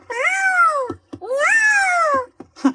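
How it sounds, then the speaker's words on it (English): A cartoon cat in Mickey Mouse Clubhouse lets out two long, drawn-out rising-and-falling meows, close and loud, followed by a short chirpy mew. "Now we can feed Mr. Pettibone. Here, kitty kitty"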